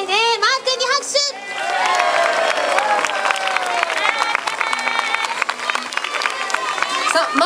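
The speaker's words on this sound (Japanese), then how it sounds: "マー君に拍手" Crowd applauding and cheering at a stage event at Marine Stadium, sustained clapping mixed with shouts and a voice over a PA, lively throughout after a brief spoken opening.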